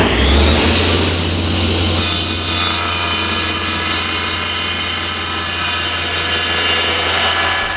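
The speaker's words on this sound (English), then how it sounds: "So we'll now cut them up to length." Power saw cutting wooden stair planks to length during an old staircase restoration, a loud continuous whine that starts sharply and holds steady for the whole stretch.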